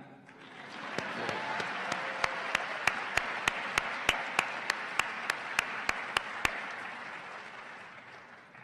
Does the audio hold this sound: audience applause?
yes